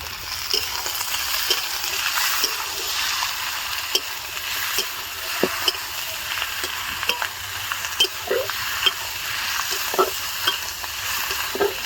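Chicken ghugni spices, including whole bay leaf, being stirred and sautéed in hot oil, with a steady close sizzle and frequent scraping stir strokes throughout.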